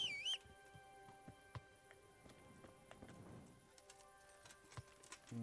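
Horse hooves clip-clop in an irregular pattern in the medieval video game Kingdom Come, soft and fairly distant, over a faint game ambience with occasional tonal effects.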